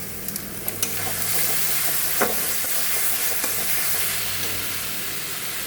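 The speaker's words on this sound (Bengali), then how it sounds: "মশলাটা কষা হচ্ছে" Masala for a Bengali bacha fish curry sizzles and fries in a pan as it is sautéed, a loud, steady hiss with occasional scraping stirs and small pops.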